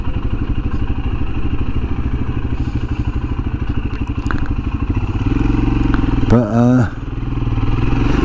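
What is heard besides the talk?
Royal Enfield Himalayan motorcycle riding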